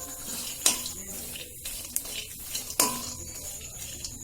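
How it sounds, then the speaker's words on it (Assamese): Peanuts fry with pan masala in a pan, stirred with a utensil that scrapes and clinks against the metal in several sharp, close knocks over a steady low sizzle. "আৰু অকমান মই পান মছলাৰ সৈতে বাদামখিনি 1 মিনিটমান ভাজি ল'ম"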